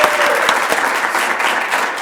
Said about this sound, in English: Let's keep the applause going for a while.